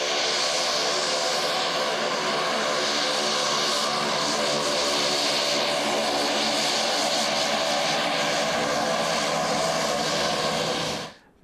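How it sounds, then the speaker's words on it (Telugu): Indian Air Force Sukhoi and Hawk fighter jets pass over a highway emergency runway at Medarametla in Bapatla district, their engines making a loud, steady, close roar that holds for about eleven seconds before cutting off. "4 సుఖోయ్ యుద్ధ విమానాలు, 2 హాక్ యుద్ధ విమానాలు రన్వేపై గాలిలో పరుగులు తీశాయి"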